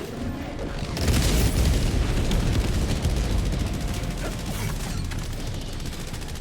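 An air strike in Helldivers 2 pounds an enemy base with a burst of heavy, rumbling explosions and rapid, fusillade-like blasts. The barrage starts abruptly, then the booms roll on loud and close for several seconds.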